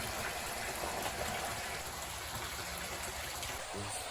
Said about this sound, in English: the water then pours out back into the sump tank